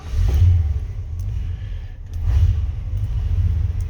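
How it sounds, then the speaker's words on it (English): A 1990 Ford F250 pickup's 460 V8 is blipped on the throttle, two deep rumbling revs rising and falling over a steady low idle, close up and with no talk. "start the truck, and I'm going to have to use the throttle as well just to"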